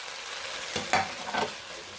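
Duck stir-fries in a pan with onion and carrot, a constant close sizzle marked by a few quick scraping stirs from a spatula, with no talking.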